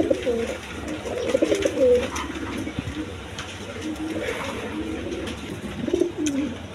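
A pair of pigeons, a black beauty and an exhibition type, cooing close by in repeated throaty rolling bursts, with light background noise between calls.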